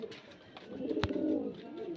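Pigeons kept for sale at a home loft in Beldanga coo with a low, throaty rolling sound close by, and a single sharp tap or click cuts through the middle.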